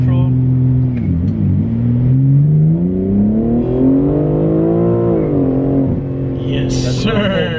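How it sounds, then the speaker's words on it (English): A 2024 manual BMW G80 M3 with a non-resonated midpipe exhaust launches with its rear wheels spinning, the engine note loud and close as it climbs, dips at a shift, then rises again, with voices in the car. "But you hear the wheel spin?"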